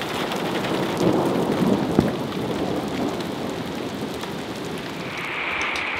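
Steady heavy rain pours down at John Bryan State Park with a low rumble of thunder rolling through, constant and enveloping with no voices.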